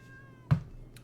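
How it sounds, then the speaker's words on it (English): A cat meows indoors: two short, close calls roughly half a second apart, each a brief bright burst over a quiet room hum. "Meow."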